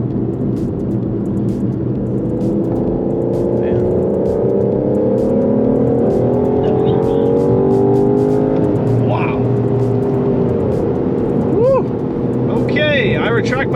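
An Aston Martin DBS Superleggera with a turbocharged engine accelerates hard on the road, a loud continuous roar rising and falling through gear changes with sharp turbo whooshes and chirps near the end, heard from inside the car.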